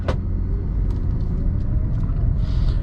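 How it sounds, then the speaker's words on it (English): A 2012 Jeep Liberty SUV rolls along a road, its engine and tyres making a steady low rumble that fills the whole stretch, with a few faint knocks and clicks over it and no talking. "We're gonna get this Jeep Liberty out on the road."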